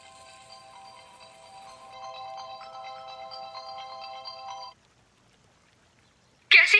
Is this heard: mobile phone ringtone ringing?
yes